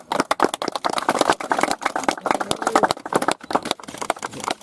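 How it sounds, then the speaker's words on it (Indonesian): A crowd at an official Keerom regency handover ceremony breaks into loud, sustained clapping, dense and irregular, close by and continuing for several seconds. "Tepuk tangan dulu."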